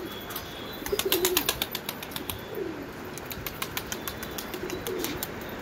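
Pigeons in a crowded pigeon keeper's loft give low cooing calls while wings flap and clatter in repeated bursts, with a steady background of rustling and bird noise throughout.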